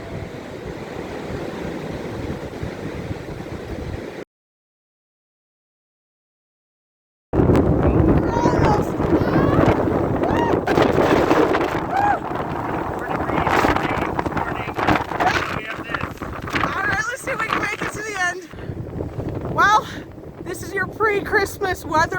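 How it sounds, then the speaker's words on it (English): Strong gusting wind from an arctic blizzard on a farm homestead roars across the microphone in heavy, buffeting bursts, broken by a few seconds of dropout, with someone talking intermittently through the gusts. "when this gusts, boy does it gust."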